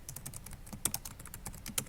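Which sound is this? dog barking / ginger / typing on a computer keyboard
typing on a computer keyboard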